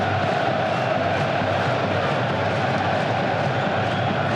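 A dense football crowd at Villa Park roars steadily and loudly after England score against Spain in a 2001 international, the cheering sustained and undiminished throughout.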